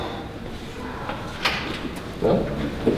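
Inside an office at Buffalo City Hall, a locked door is tried with the handle, giving a few rattling clicks and a soft thud against the frame as someone moves nearby.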